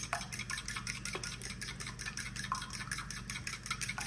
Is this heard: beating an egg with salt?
yes